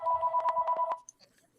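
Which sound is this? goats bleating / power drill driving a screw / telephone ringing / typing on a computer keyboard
telephone ringing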